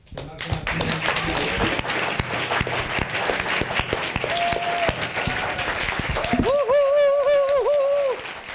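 A theater audience at a university event on Dante gives a final round of applause, dense and sustained clapping throughout, with a voice-like tone rising over it near the end.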